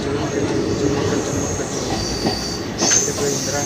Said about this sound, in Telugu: వెళ్ళిపోతా ఉందమ్మా ట్రైన్.